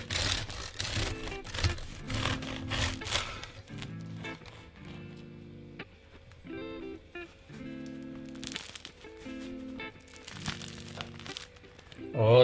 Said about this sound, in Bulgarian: а чувате и коричката колко е хрупкава